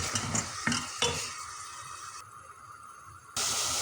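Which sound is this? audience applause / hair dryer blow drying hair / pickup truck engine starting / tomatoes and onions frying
tomatoes and onions frying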